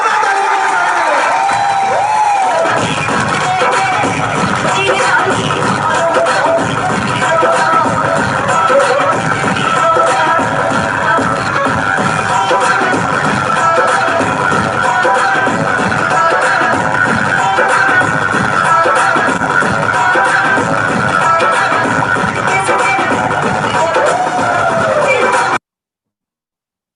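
An audience fills a hall with loud, sustained applause and cheering that runs steadily for about twenty-five seconds, dense and close, with voices mixed into the crowd noise.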